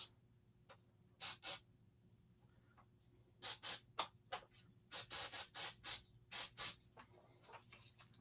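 Short hissing bursts from an aerosol spray can, faint and close, come in a series of quick puffs, some paired, over a low steady background hum.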